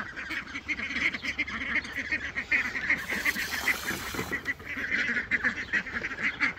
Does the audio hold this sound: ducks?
yes